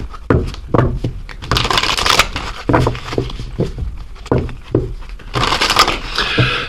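A deck of oracle cards is shuffled by hand, with repeated riffling, flicking and papery slaps in irregular bursts, close and fairly loud with no talking.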